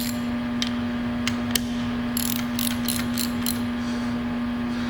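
Several quick metallic ratchet clicks come in short bursts as a 7/8 socket snugs up a part on an Ampco CB+ sanitary pump, over a steady electrical hum.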